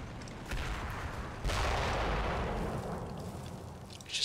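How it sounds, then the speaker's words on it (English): A broad, heavy boom from a World War II tactical war video game set in Italy erupts midway and rolls on as a long rumbling decay, preceded by a smaller blast, with no talk. "It's just a random explosion here."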